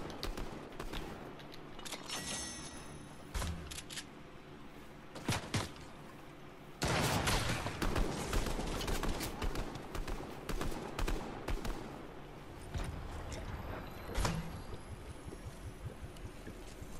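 Enemy gunfire in Fortnite cracks out in scattered sharp shots and short bursts, loud and close at times, over a busy background of game ambience.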